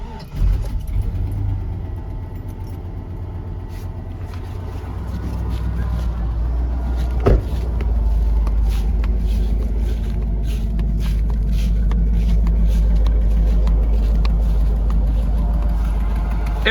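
A pickup truck fitted with a 5.3 engine and a leaking exhaust cranks, catches with a sharp crack, then settles into a loud, steady, deep idle that runs close by for the rest of the clip.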